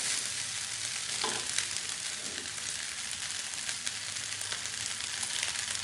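Mustard greens and Indomie noodles stir-frying in a pan give off a dense, steady sizzle with occasional light clicks and scrapes of stirring, close and unbroken, no voices.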